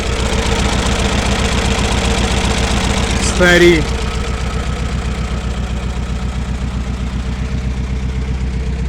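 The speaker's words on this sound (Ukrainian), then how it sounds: "Моторчик робить." An old GAZ-21 car engine idles steadily with a rhythmic, slightly uneven chug, due for new spark plugs, close and loud, while someone says a short word over it.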